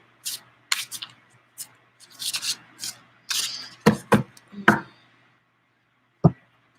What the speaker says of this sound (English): I'm just going to shuffle for a few more seconds.